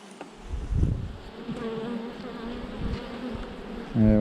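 Honeybees from an opened divisible hive during queen-rearing grafting hum steadily and close, with a few louder buzzes of single bees passing near, and no voices.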